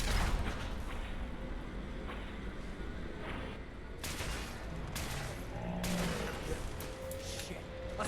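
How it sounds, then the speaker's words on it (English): Assault rifle gunfire crackles in scattered bursts of sharp shots over a noisy game soundscape with mechanical clanks and a faint tonal hum. "Assault rifle."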